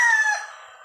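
A rooster crows once, loud and close, its high call trailing off over under a second, with no other sound around it.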